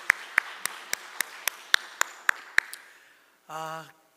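A church congregation at a Korean Sunday service claps in unison, about ten evenly spaced sharp claps that fade out, followed by a brief voice.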